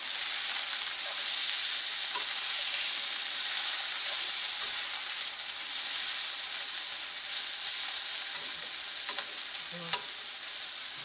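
Bell peppers and onions fry in a pan for a quinoa spinach salad, giving a steady, close hiss of oil. Occasional small pops and stirring scrapes break through, and no one speaks.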